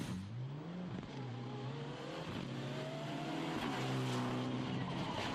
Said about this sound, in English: That's Van der Heuvel with the Mitsubishi again from the Netherlands.